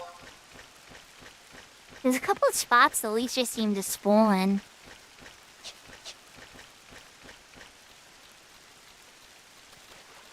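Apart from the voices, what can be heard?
rain in video game Final Fantasy XI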